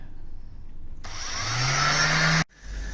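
A power sander works on a BB8 Vonjet hamster model build, whirring steadily and loudly for over a second with a rising motor pitch before cutting off abruptly.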